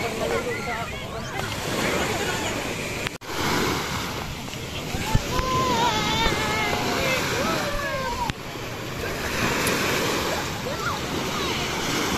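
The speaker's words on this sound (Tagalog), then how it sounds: "Maririnig mo lang dito yung mga hampas ng alos." Ocean waves wash and crash continuously on the shore at Tongo Beach Resort, a steady roar of surf mixed with wind buffeting the microphone, while people talk nearby.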